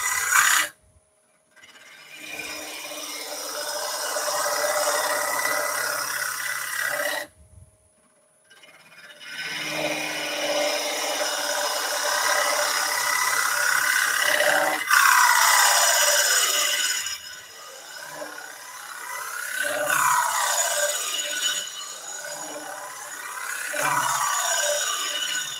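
A Woodcut Pro-Forme hollowing tool cuts side grain from the center outward on a wood turning, throwing ribbon shavings with a steady, loud scraping hiss that breaks off briefly twice before resuming in long sweeps.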